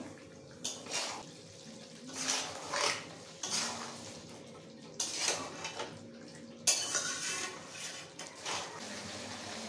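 Chicken being sautéed with whisked sour yogurt and salt in a pan for chicken kosha, with repeated scraping and clattering of a utensil against the pan in bursts over a low background hum; no talking.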